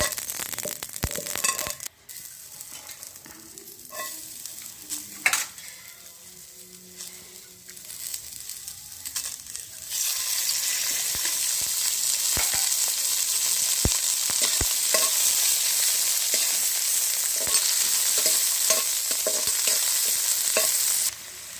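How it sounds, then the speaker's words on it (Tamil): Fenugreek and mustard seeds roast in a pan, giving a steady close sizzle and crackle with occasional sharp pops and stirring scrapes, growing louder and denser partway through. "வெந்தயமும் கடுகு போட்டு வறுத்தாச்சுங்க"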